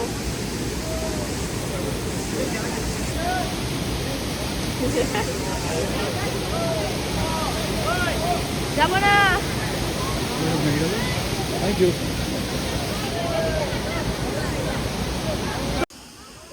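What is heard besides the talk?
Banjhakri waterfall in Sikkim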